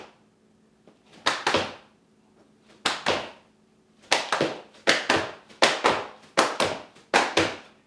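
Pairs of sharp hand claps repeat in a steady rhythm during rope jumping, close and crisp, each pair followed by a short quiet gap.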